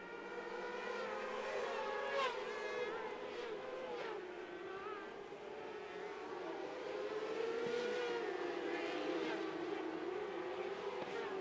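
Race cars on a circuit during a timed race, several engines whining and droning at a distance with pitch shifting as they pass and change gear, faint and continuous throughout.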